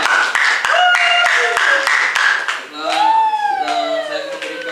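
Audience at a high school debate final clapping for the opposing team, a burst of sharp claps under a bright tonal whistle-like sound that sweeps and wavers as the applause fades.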